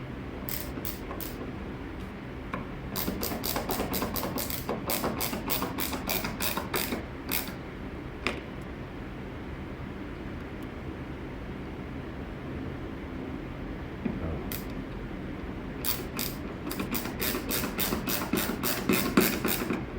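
Ratchet driving T25 screws into a grab handle in the hatch of a Volvo 850 or V70 wagon, heard as close bursts of rapid clicking at the start and again near the end, with quiet steady background in between.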